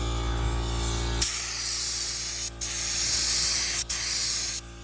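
A steady, loud aerosol hiss runs almost continuously, broken by a few brief pauses between bursts of spraying.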